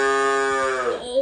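One loud, close cow moo rings out, a sustained tonal bellow that falls in pitch and trails off near the end.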